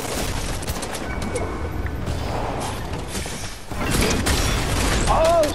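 Rapid gunfire from a Fortnite match crackles steadily and loud throughout, growing denser toward the end, mixed with game effects and no clear speech.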